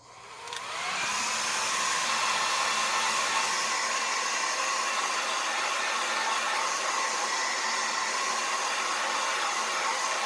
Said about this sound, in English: we still want to move our hairdryer around the canvas because we don't want it to get too hot in one spot.